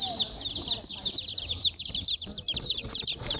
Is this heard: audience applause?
no